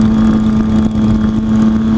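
A motorcycle engine revs steadily and loudly nearby, a strong low droning hum holding for about two seconds with no talking.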